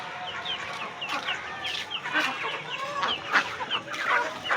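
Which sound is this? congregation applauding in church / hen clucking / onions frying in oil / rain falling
hen clucking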